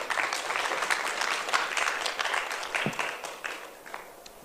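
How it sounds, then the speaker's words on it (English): An audience at a book launch gives a round of applause, moderate clapping that is brisk at first and then gradually thins and fades. "Another round of applause, please, for Polly"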